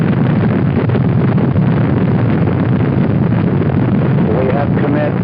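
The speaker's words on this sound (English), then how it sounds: "We have ignition sequence start. The engines are on." Apollo 8's Saturn V rocket engines roar at launch as a dense, continuous, muffled rumble with no breaks, heavy at the low end and steady throughout.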